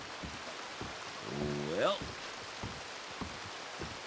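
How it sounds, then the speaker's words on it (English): Steady rain hisses across a rainy, near-freezing scene in the video game Red Dead Redemption 2, a constant soft wash that continues beneath a man's brief spoken words. "it's raining like hell"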